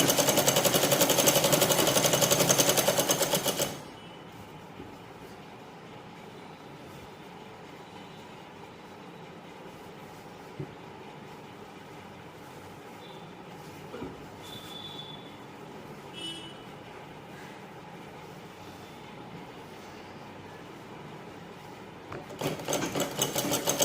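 A sewing machine runs loudly and quickly, stitching can-can petticoat cloth along marked lines; it rattles for a few seconds, stops for a long quiet stretch of faint room sounds, then starts again near the end.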